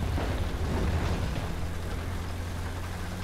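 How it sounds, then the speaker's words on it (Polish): Tank ammunition exploding in the War Thunder video game, a heavy low rumbling blast that rolls on steadily without a sharp peak. "Eksplodowała amunicja."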